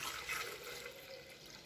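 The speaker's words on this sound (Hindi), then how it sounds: "ब्लेंडर में हम डालेंगे 2 गिलास दूध" Fresh milk pours into a blender for a banana milkshake, a steady soft liquid rush and trickle that runs throughout, fairly quiet and without talk.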